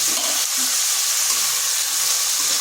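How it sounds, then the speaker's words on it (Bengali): Potatoes frying in a pan over medium heat, a continuous bright hissing sizzle, close and even throughout with no talk. "এরপর মিডিয়াম আছে রেখে আলুটাকে তিন থেকে চার মিনিট একটু এইভাবে ভেজে নিচ্ছি"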